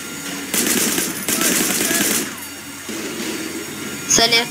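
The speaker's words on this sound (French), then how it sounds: "Je prends la mitrailleuse." Machine gun fire in the open-world action game Sleeping Dogs, sustained bursts in two stretches, loud and close, followed by quieter background game sound and a brief metallic clatter near the end.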